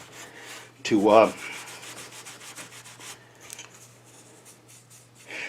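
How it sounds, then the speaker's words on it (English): Sandpaper rubs across a lacquered tiger maple coaster between finish coats, one short scratchy stroke near the start, then only faint scuffing in a quiet room. "I'm just uniformly dulling the surface so that the next coat will bite well"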